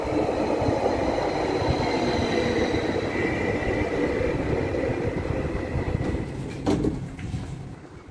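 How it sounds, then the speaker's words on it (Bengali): A train pulls into a stop with a continuous low, rumbling roll of wheels and carriages, loud and near, ending in a few clanks and rattles as it slows. "আর এই যে এদিকে ট্রেন চলে আসছে।"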